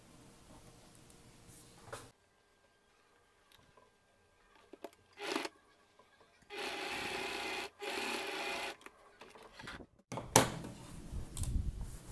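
A domestic sewing machine stitches the side seam of a fabric bag in a few short bursts with pauses and faint handling between them, the longest run lasting about three seconds, fairly quiet and with no talk.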